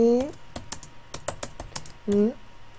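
Quick bursts of typing on a computer keyboard while HTML code is entered, clicky keystrokes near and clear, interleaved with a person talking.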